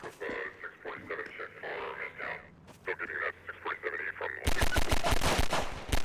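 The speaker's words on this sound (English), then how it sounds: "Shooting the ghoulies, huh?" Gunfire from shooting enemies in Half-Life 2, a rapid burst of loud repeated shots arriving near the end after a stretch of talking voices.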